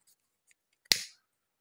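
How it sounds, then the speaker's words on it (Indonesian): Scissors make one crisp snip through leftover crochet yarn on a tapestry crochet bag, preceded by a few faint small handling ticks in an otherwise quiet room. "Kemudian ini kita akan gunting"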